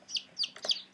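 Pet hens cluck and chirp in a few short, close bursts, with sharp high calls rising and falling over about a second and no talking.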